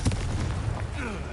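A Confringo blasting spell goes off in Hogwarts Legacy, a loud booming burst with rumbling low end that fills the moment, layered with game effects and a trailing whoosh.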